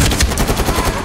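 A rapid burst of automatic gunfire in Medal of Honor Warfighter, a quick run of loud, closely spaced shots lasting about a second.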